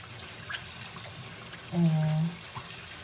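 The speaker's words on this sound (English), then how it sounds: "forgive me for splashing too much. I'm splashing a lot." Water splashes and runs steadily as fresh garden produce is washed in a kitchen, a continuous faint trickle and splatter heard throughout, with a brief low hum in the middle.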